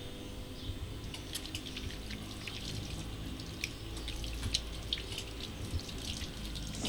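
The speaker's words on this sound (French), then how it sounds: "xaaral ndox mi génn" Water runs steadily from a tap at a handwashing station on an autonomous hygienic stand built by university students in Thiès, a soft continuous splash and trickle with faint drips, heard alone and fairly quiet.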